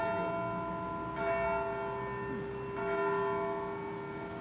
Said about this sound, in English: There's something about bells coming off a courthouse in small town America that just really